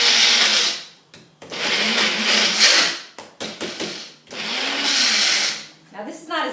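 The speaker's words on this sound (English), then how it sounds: "Now this is not as high power blender, so you have to be careful, because sometimes it can overheat." A small, not very powerful blender whirs through coconut treat ingredients in loud, sustained bursts, stopping and restarting several times with short pauses between runs.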